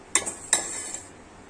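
Mango pickle ingredients are stirred in a pan over a medium flame, two sharp scraping clinks of a spoon against the pan, close and alone, then a quiet fading sizzle.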